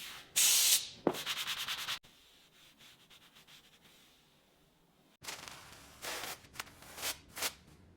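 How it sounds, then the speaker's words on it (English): Hand sanding on the bodywork of a Mercedes 300SL Gullwing: quick rasping strokes in bursts, a quiet pause, then more scraping passes, close up with no voices. "Sanding is a search for perfection. Every stroke brings the ghost back to life."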